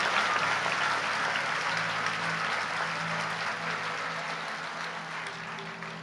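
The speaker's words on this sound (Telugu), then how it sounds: "ఒకసారి గట్టిగా చప్పట్లు కొట్టి దేవునికి కృతజ్ఞతాస్తుతులు చెల్లిద్దాం." A church congregation claps loudly in thanksgiving to God, a dense, steady wash of many hands that fills the whole span and fades only slightly toward the end, with no voices over it.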